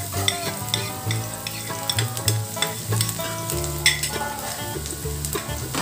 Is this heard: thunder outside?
no